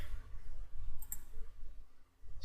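Computer keyboard typing, a soft steady patter of small clicks with a couple of sharper taps, close and moderately quiet, no voices.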